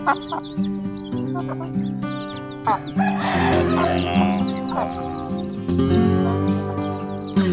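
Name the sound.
hen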